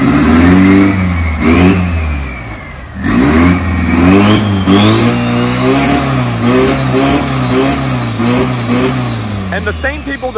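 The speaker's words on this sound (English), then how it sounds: "extremely massive compound turbos strapped to this Ford JJ" A compound-turbo diesel Ford truck with over 1000 hp revs hard at an off-road dirt drag race in Thailand, its loud engine droning and rising in pitch through repeated throttle surges while a voice talks over it.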